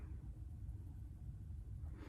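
A storm's deep thunder rumbles steadily over Chicago, a low continuous roll that stays fairly faint and unbroken, with no voices heard.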